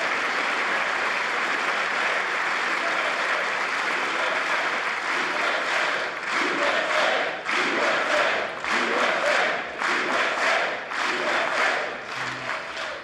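The US Congress gives Israel's prime minister a long, dense wave of applause, with crowd cheering swelling and pulsing through the chamber and distant voices mixed in throughout.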